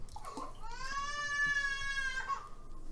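A house cat lets out one drawn-out, wavering meow at close range, rising and holding before trailing off, with faint background noise around it.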